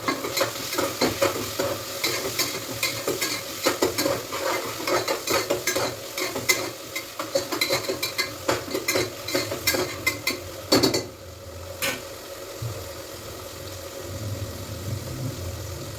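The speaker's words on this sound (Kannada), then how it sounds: "ಇದು ಕೂಡ ಈಗ ಫ್ರೈ ಮಾಡ್ಕೊಬೇಕು" Tomato fries and gets stirred in a pan while chicken pulao and chicken chops are cooked, with a steady sizzle and repeated scraping utensil clicks for about eleven seconds, then a quieter stretch of low sizzling.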